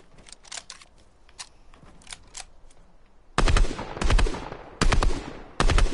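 Gunfire in Fortnite: faint scattered shots in the first half, then four loud, close bursts of rapid automatic fire separated by short pauses, with no talking.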